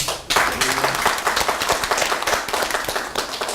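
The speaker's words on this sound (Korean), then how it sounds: "우리 김영기 시의 의장님에게 고맙다는 뜨거운 박수 부탁드리겠습니다" A room of local association heads at a community meeting in Jumunjin breaks into warm, sustained applause, loud and close with sharp individual claps throughout, the clapping surging in right after a brief pause.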